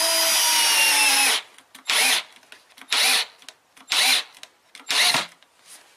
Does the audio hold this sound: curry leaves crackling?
no